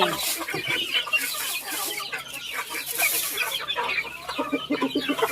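Chickens on a rural farm cluck and squawk in a busy, overlapping chorus of short calls at close range, with a louder rhythmic burst near the end.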